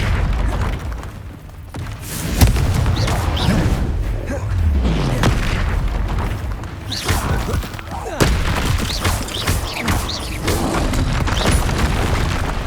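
Confringo fire spell blasts in the Hogwarts Legacy game, with repeated loud booms and explosive bursts layered over dense, continuous combat noise.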